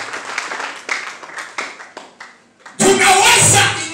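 Church congregation clapping hands during a sermon, first a run of loose, uneven claps, then a sudden loud burst of full applause mixed with shouting voices.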